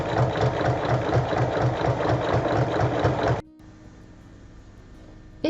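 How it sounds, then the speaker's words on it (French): A sewing machine stitches a fold along a bag strap, a fast rhythmic motor chatter lasting about three and a half seconds before stopping abruptly into quiet room tone. "on va faire une piqûre à 1 mm de chaque côté"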